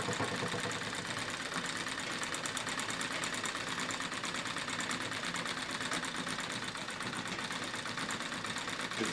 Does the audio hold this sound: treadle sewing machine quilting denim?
yes